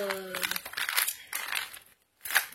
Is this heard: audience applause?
no